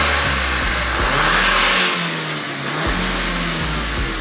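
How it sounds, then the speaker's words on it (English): A Mk5 Golf GTI engine, recently repaired after a misfire, revs repeatedly up and down close by, loud and mid-pitched, with steady rhythmic rises in the engine note and no speech. "It's revving a lot better."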